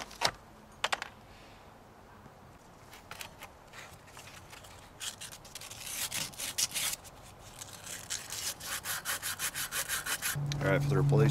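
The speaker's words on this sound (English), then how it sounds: "clean this up with some sandpaper so that the new ones slide in a little easier" Sandpaper rubs by hand on ball joint parts from a 2004 Dodge Ram 3500 4x4, starting with scattered scrapes and building into steady, rhythmic strokes that grow louder and denser toward the end.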